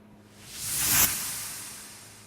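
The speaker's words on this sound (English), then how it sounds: "And then have this noise sweep to transition." A noise sweep transition in a Logic Pro X pop production: a single airy whoosh of filtered noise rising to a bright peak near the middle, then fading away alone.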